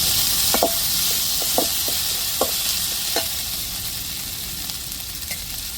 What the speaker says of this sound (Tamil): இப்போ இஞ்சி பூண்டை சேர்த்துக்கிடுவோம் வெங்காயத்தோட நல்லா வதக்கி விட்டுருவோம்